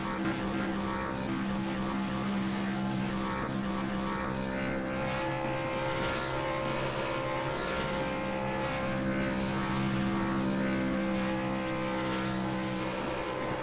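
A race car in the iRacing video game at Thompson does celebratory burnouts, its engine a continuous droning buzz with steady harmonic tones that rise and fall slightly throughout.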